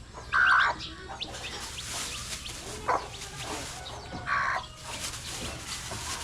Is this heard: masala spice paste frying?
no